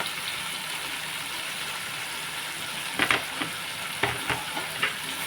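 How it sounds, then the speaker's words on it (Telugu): Coriander and mint are stirred into a frying dish for prawn gongura pulao, with a steady close sizzle and a few sharp scraping and clinking strokes of the spoon near the end, and no talk. "బాగా కలిపేసుకుని ఇందులో కొత్తిమీర కొంచెం పుదీనా"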